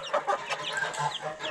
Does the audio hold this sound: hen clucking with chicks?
yes